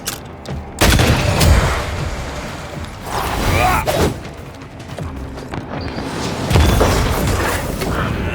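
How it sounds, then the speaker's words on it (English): A corpse enemy fires a gun in the video game Banishers: Ghosts of New Eden, heavy booming shots and impacts landing in several loud bursts over a few seconds, with a rumbling background between them. "That corpse is gonna shoot."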